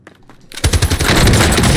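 Gunshots in the battle royale game Call of Duty Cold War Warzone: after a quiet moment, a loud, rapid burst of automatic fire erupts and keeps rattling close by.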